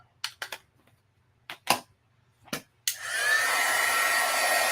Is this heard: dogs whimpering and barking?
no